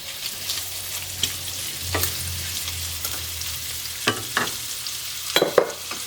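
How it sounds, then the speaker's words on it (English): Thinly sliced onion sizzles steadily in rendered bacon fat in a pan, with a few stirring scrapes, close and continuous throughout. "So now we're going to add 1 thinly sliced onion"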